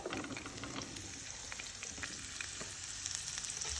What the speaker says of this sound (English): So I will now add the cut vegetables, the cut bitter gourd.